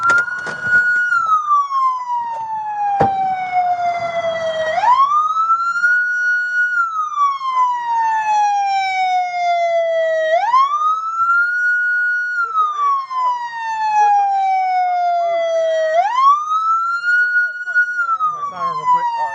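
Police car siren during a chase in Newnan, wailing loud and close in three long rising-and-falling sweeps, with a sharp click early on and faint background noise.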